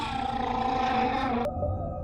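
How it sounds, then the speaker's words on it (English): Humpback whale song in the underwater game Beyond Blue, a sustained moaning tone with layered harmonics over a watery ambient bed, cutting abruptly to a thinner low drone near the end. "Humpback whale."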